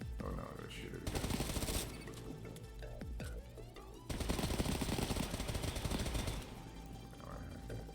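Automatic gunfire in the Off The Grid shooter, loud bursts arriving in two long stretches over background game sound, with a voice talking faintly in places.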